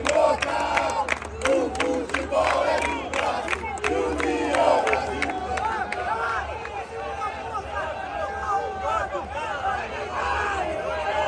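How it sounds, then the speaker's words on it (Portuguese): Vasco supporters chant loudly and continuously in a crowded football stadium at Itaquera before a match against Corinthians, a rhythmic mass of voices with crowd noise that fills the whole stretch. "Torcida do Vasco calando a do Corinthians."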